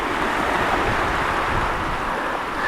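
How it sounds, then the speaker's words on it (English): Sea waves wash in and out around a stone on the shore, giving a steady, close, full-bodied rush of surf that carries on without a break. "to capture the sound of the waves moving in and out"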